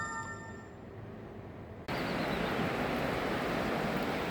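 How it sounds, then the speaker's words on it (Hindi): The Uhl River rushes loudly through a pine-lined mountain valley in Barot, a dense roaring wash of water that jumps suddenly louder partway through and stays constant; no voices. "एक तरफ ये सामने से इतना शोर करती हुई बहती नदी है।"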